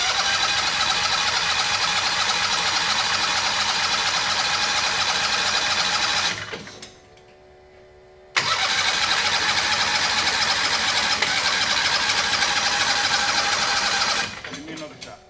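A Turbo 670 dragster engine running on methanol roars loud and steady, cuts out abruptly into near silence with a faint ringing tone, then bursts back to full roar before dropping off again near the end.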